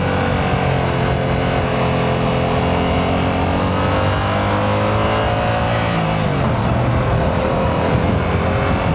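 A Yamaha R7 parallel-twin motorcycle engine drones loudly and continuously, its pitch holding steady then dipping briefly as the throttle eases, no voices.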